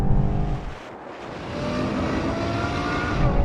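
A BMW M8 racing a Ferrari and a Nissan GTR, a loud continuous engine roar with wind rush that dips briefly and then builds again. No voices are heard.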